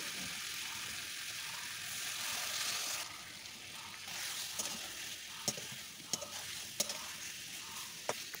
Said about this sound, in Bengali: আর ওই চিংড়ির ঝোল দিয়ে কিন্তু আমি সম্পূর্ণ পটলটা কষাতে থাকছি।